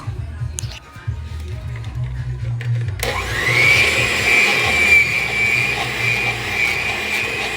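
An electric blender switches on partway through and whirs steadily, loud and continuous, mixing eggs into Caribbean black fruit cake batter, with a voice talking before and under it.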